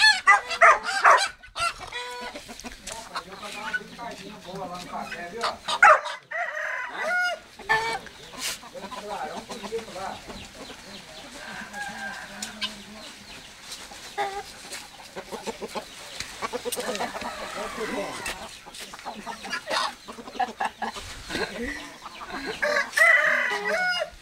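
Chickens cluck and a rooster crows repeatedly, loud and close, with a dog barking at times and people talking throughout.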